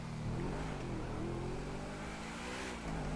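A car engine in Grand Theft Auto V hums and revs steadily and close, its pitch rising and falling in smooth waves with no talking.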